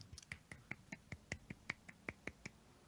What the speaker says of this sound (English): That was a round of applause.